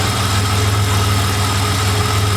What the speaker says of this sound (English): So we have the engine running, we've changed the oil,